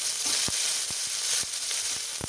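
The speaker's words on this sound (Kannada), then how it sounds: "ಈರುಳ್ಳಿ ಬಾಡಬೇಕು, ತುಂಬ ಟೇಸ್ಟ್ ಇರುತ್ತೆ" Onions sautéing in oil in a pan with green chillies for tomato bath, a soft steady sizzle broken by several sharp clicks of stirring, close and fairly quiet.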